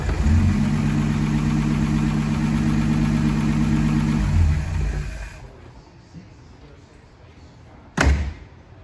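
A 1937 Packard 477S engine with a newly fitted Carter WA1 carburetor runs loud and steady, a low rumbling drone that cuts off abruptly, followed by quiet and a single sharp thump.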